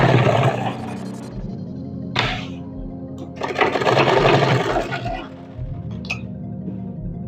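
A sewing machine stitches fabric for a pair of trousers in loud close bursts of rapid mechanical whirring, pausing briefly between runs, with a low motor hum throughout.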